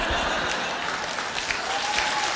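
Audience applauding loudly at a live music show, dense steady clapping filling the whole moment with a faint murmur of the crowd beneath.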